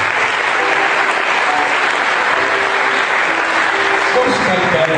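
A church congregation applauds steadily and loudly during a Father's Day service, the clapping dense and unbroken throughout with a faint murmur of voices underneath.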